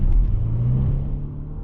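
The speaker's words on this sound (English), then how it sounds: "that engine sounds really good. Has a very deep tone to the way it sounds" Deep, steady engine drone from a 2017 Genesis G80 3.8 while driving, heard from inside the cabin, with a low rumbling tone that swells slightly early on and then holds steady, no voices.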